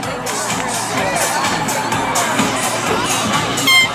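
A crowd cheers at a youth peewee football game, with children's and adults' shouts and cheers rising and falling in a busy outdoor roar. The noise swells louder toward the end.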